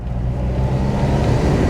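An Escort van engine with a swapped motor pulls steadily in second gear uphill, giving a continuous loud low drone from inside the cab.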